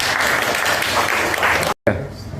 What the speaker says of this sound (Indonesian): Wah, luar biasa, tepuk tangan.